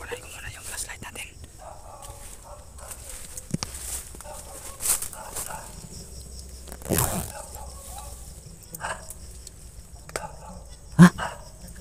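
Dogs bark sporadically at a distance amid quiet nighttime surroundings, with people whispering and talking softly in between.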